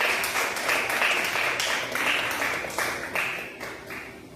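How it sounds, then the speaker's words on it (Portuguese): Sustained applause from a church congregation, dense and even clapping for several seconds, fairly loud and close, slowly tapering toward the end. "As palmas é para Jesus."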